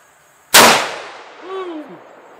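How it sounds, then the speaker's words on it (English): A Ruger M77 Hawkeye rifle fires a single loud, sharp shot at a tank target outdoors. A long decaying echo follows, then a brief distant whine. "let's see if this thing will fire a bullet."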